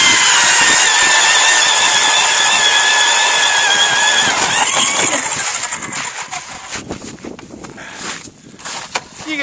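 A Strikemaster Lithium Lazer battery-powered ice auger bores through about 10 inches of ice with a loud, steady motor whine and grinding, then tapers into irregular clatter and scraping as the drilling ends.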